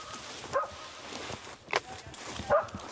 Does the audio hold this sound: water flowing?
no